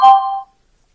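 A cheap AliExpress Bluetooth speaker gives a single short, loud pairing beep that cuts off cleanly into silence.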